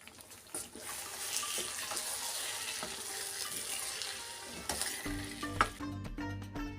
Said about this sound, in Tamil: ஒரு 5 நிமிஷம் நான் சிம்லேயே வச்சு வேக வச்சோன்னா இங்கே பாருங்க எண்ணெயெல்லாம் நல்லா பிரிஞ்சு வருது